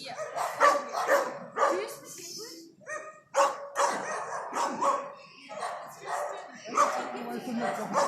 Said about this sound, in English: he struggles whenever dogs bark at him